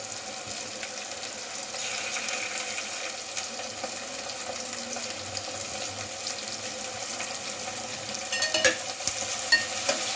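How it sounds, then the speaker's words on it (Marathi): Garlic paste is stirred into tomatoes frying in a pan, giving a steady close sizzle with scraping and stirring noises throughout, louder clatters near the end. "आता लसूण पेस्ट टाकूया"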